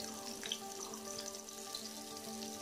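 Onions frying in a generous amount of oil in a pan for a raw banana peel fry, a steady soft sizzle with faint crackles running throughout at low level, no voices.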